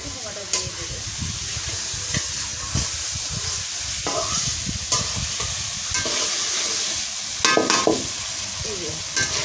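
Pumpkin goes into a village-style curry of dried ribbonfish, jackfruit seeds and Malabar spinach stems frying in oil, giving a steady close sizzle with intermittent scraping stirs and spatters.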